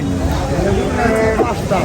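A cow moos loudly and close at a crowded Qurbani cattle market by a ferry ghat in Sherpur, one long low call rising over steady crowd murmur.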